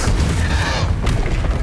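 Bombarda explosion spell going off in Hogwarts Legacy: a loud, rumbling boom with crackling debris that fills the whole stretch, heavy and close, with no clear talk over it.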